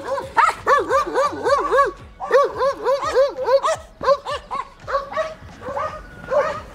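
Several dogs bark, yip and whimper close by in a city street, giving quick wavering cries in bursts with brief pauses and no talking.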